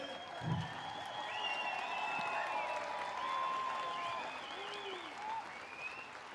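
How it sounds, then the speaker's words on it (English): A crowd applauds steadily for several seconds at a gathering during the Pope's visit to Maskwacis, Alberta, a dense wash of clapping heard from a moderate distance with a faint whistle-like tone above it. "let's give everybody a round of applause"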